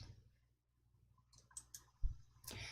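Computer mouse in a spreadsheet program, a few faint, sharp clicks spaced apart over quiet, with one slightly louder knock near the end.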